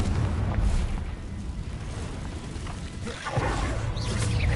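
A Confringo fire spell goes off in the video game Hogwarts Legacy, a loud rumbling blast with a second burst near the end over a continuous roaring background.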